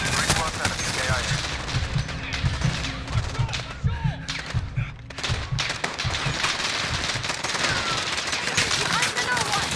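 Gunfire in the Call of Duty Modern Warfare finale: rapid machine-gun bursts and scattered shots crackle almost continuously for ten seconds, with a brief lull midway, under shouted voices.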